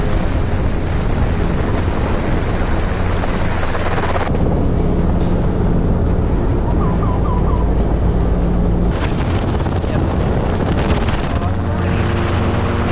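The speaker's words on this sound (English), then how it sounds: "the rotors thundered to life and our helicopter rose into the blazing Texas sky" Loud, close helicopter rotor roar with a heavy thumping rumble that shifts in intensity as the helicopter lifts off for a wild boar hunt in Texas, dominating the scene throughout.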